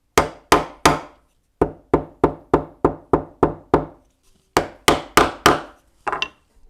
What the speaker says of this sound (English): Now I'll take a chisel and I'm going to put it on each one of these lines.